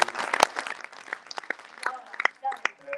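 An audience claps for Kamil at a live charity dance event, scattered and fairly light applause under someone speaking Polish.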